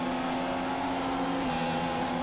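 An F1 race car in a video game at Bahrain holds a steady, loud engine whine with a strong sustained tone, barely dipping as the throttle eases, with a continuous whir underneath and no talking.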